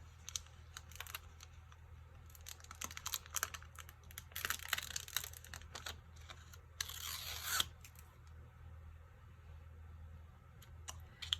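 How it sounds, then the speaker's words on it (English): Backing paper peeled off an adhesive sheet during a birthday craft project, heard as quiet crinkling and tearing rustles in two short bursts over a soft steady background hum, with no talking. "then we just peel this off"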